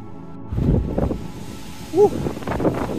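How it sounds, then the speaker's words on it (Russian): Low, rumbling wind buffets the microphone in gusts on a rocky mountain climb near a ridge, with a brief tonal squeak midway and no talking. "Ветер усиливается."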